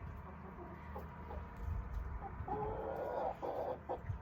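Backyard chickens cluck near and under low ambient noise, scattered soft calls building into a louder run of clucks in the second half.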